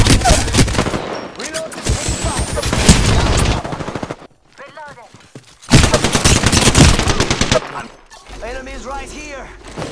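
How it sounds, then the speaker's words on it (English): Gunfire in the Apex Legends video game: bursts of rapid shots form dense loud stretches, broken by a quieter gap, with a voice speaking through parts of the action. "They're shooting at me."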